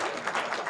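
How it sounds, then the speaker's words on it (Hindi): Audience applause at a Hindi poetry recital (kavi sammelan), a dense burst of clapping filling a very short moment, loud and continuous with no voices over it. "तालियां ढंग से बजना चाहिए जब अच्छा लगे तो"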